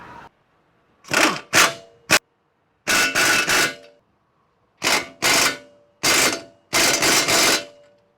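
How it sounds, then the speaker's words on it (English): An impact wrench tightens 24mm nuts on a 2013 Ford Explorer strut in several sharp, rattling hammering bursts of about half a second to a second each, separated by silences, loud and close. "I always just hit them with an impact"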